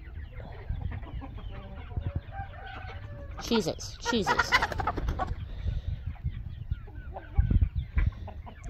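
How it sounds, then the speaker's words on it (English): Chickens cluck and a rooster crows loudly partway through, with more clucking around it and a brief remark from a person near the start. "That one running around is an interesting chicken."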